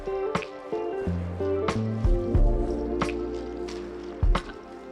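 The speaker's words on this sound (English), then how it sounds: "repeating the process again, pouring out the wax" Melted beeswax is poured out while adding wax to Flow Hive plastic frames, giving a run of wet drips and soft squishy splashes over a low, steady hum, close and moderately loud.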